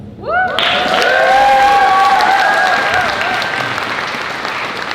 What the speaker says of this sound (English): So let's clap for them.